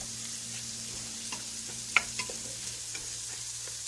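Bok choy, mushrooms, onions and garlic fry in a hot pan with a soft, steady sizzle, broken by light stirring clicks and one sharp utensil tap near the middle.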